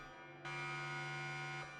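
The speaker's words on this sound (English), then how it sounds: "Brother Ixus, what is the cause of this alarm?" A spaceship alarm in a Warhammer 40k narrative battle report sounds as a steady, loud electronic buzzer tone that swells in partway through and holds for about a second before easing off, with no voices.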